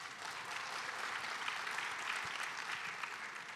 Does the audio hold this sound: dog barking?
no